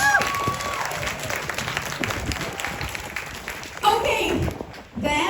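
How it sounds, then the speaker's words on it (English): A gathered audience at an event's closing reflection claps steadily for several seconds, dense applause of many hands with a brief swell near the end, while voices carry over it. "Please also give applause for them because I love them so much."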